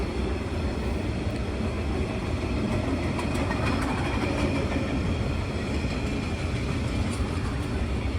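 A 32-wagon freight train rumbles steadily past on the rails, loud and continuous, with metallic rattling and no voices.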